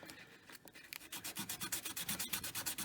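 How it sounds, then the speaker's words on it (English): Rhythmic back-and-forth sanding of a hammered metal ring's beveled edge with 220 emery, a dozen or so quick close rasping strokes gaining steady pace, with no voices. "so I'm going to sand the edge there"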